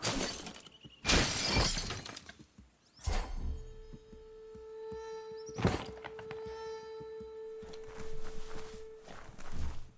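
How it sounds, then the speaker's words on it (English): A box is smashed in the video game Biomutant: sharp shattering crashes and thunks burst out several times amid footsteps, with a sustained ringing tone between the hits. "You shouldn't worry about smashing up the box."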